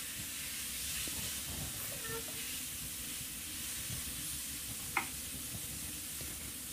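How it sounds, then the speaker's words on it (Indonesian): Boiled spaghetti sautéed with king oyster mushrooms in a pan gives a steady, close sizzle with faint stirring scrapes and one short clink near the end. "Kita tumis. Masukkan spaghetti yang sudah kita rebus tadi."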